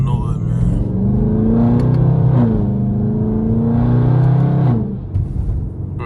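A loud Dodge Charger Scat Pack V8 revs up twice with a deep, throaty rise and fall, close and echoing at night, then settles back down to a rumble.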